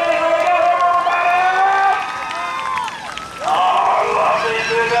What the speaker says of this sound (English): Fans, are you ready to get the A-Main together?